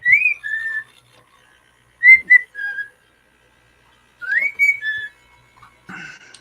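A pet bird whistles three clear, rising-and-falling phrases, each a short pair of notes, fairly close, with quiet gaps between them.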